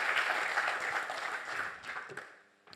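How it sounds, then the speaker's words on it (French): Applause from an audience at an anniversary event at Centrale Lille, a dense steady clapping that thins and fades out near the end. "on vous applaudit aussi, s'il vous plaît"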